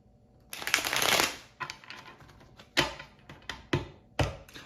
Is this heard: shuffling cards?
yes